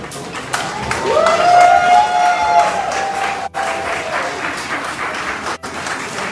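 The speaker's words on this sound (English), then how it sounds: "Ladies and gentlemen, please, another round of applause." Sustained audience applause fills a hall at a London gathering with Peter Obi, loud and dense for several seconds, with faint voices and murmur mixed in before the clapping thins toward the end.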